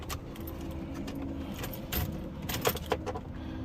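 A big bunch of car keys for a 2009 Hyundai Sonata Limited jangles close by in a few quick metallic shakes, with brief clinks toward the end over low background noise.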